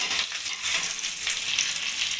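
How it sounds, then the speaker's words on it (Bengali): Capsicum, with chopped onion and green chilli, fries in oil in a kadai while preparing chilli chicken, a close, steady hissing sizzle with faint stirring and no talk. "ক্যাপসিকামটা একটু ভালো করে আমি ভেজে নেবো"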